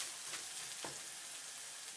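A teaspoon of chili flakes being stirred in a hot pan for Mongolian beef. A faint, even sizzle hisses throughout, with one brief scrape of stirring and no talk.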